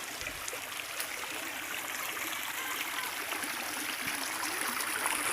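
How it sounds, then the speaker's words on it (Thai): Steady rushing water of a natural stream at Khao Kradong, Buriram, Thailand, flowing continuously, a broad even wash with no talk over it. "เป็นลำธารธรรมชาติเลยครับ"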